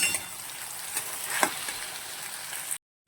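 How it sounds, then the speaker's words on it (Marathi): Green chillies and a handful of peanuts sauté in oil in a pan over low gas, a steady close sizzle with a few brief stirring scrapes, cutting off abruptly near the end. "मुठभर शेंगदाणे तेही आपल्याला टाकायचे आहेत अशा प्रकारे परतून घ्यायचं आहे कम्प्लीट आपल्याला दोन ते तीन मिनटं लो गॅसवर परतून घ्यायचे आहे"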